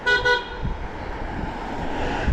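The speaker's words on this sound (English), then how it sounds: "These green taxis, they think that I need one, so they keep honking their horns at me" A green taxi on a Riyadh street sounds two quick, loud honks of its horn up close, and road traffic rumbles on after them.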